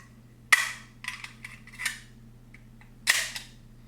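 Pro-Mag magazine forced into a Desert Eagle pistol, a sharp metallic clack followed by smaller rattling clicks and a second hard clack, close and alone over a low hum.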